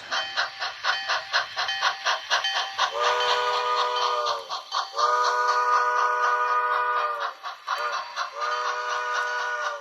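Bachmann HO-scale ALCO 2-6-0 Mogul steam locomotive in PRR 3233 livery, DCC sound decoder, running in reverse: steady rhythmic chuffing overlaid with repeated long steam-whistle blasts, close and fairly loud, no talk.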